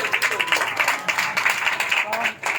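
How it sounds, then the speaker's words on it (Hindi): Church congregation claps for a sister in a sustained, dense burst of clapping, with voices calling out over it. "ये बहन के लिए जरा तालियां बजाएं"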